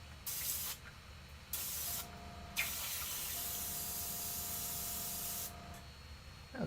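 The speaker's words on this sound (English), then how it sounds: "I just dunked the top half of the airbrush into the bucket of water and then just ran it." An airbrush sprays with its top half submerged in a bucket of water, giving a steady broadband hiss with bubbling, broken by a few short pauses and restarts while a compressor hums underneath.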